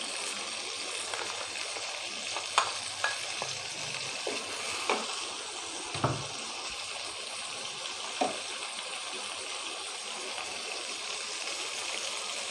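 Onion paste sizzles steadily in a pan for a gram-flour dumpling curry, a constant hiss with scattered spoon taps and stirring scrapes, close and moderately quiet, with no talking.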